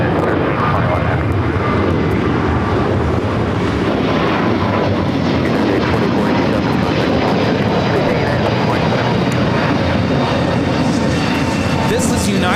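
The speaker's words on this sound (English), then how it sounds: "This is United Airlines 2487 taking off to Chicago on the A321neo" A United Airlines Airbus A321neo airliner takes off at LAX, its engines giving a loud, sustained broadband roar that holds steady across the whole stretch.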